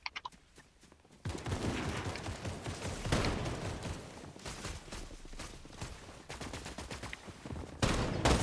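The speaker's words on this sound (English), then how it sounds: "I hear guns." Sustained bursts of automatic gunfire in a ranked online shooter match, starting quiet then swelling into loud, steady rattling volleys that continue with brief dips before a final loud burst.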